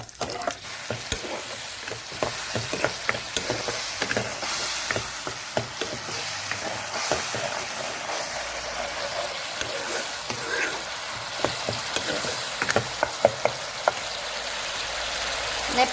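Cloves, cardamom and cinnamon fry in oil with a pinch of sugar, giving a steady close sizzle broken by sharp crackles and pops as the spices are stirred.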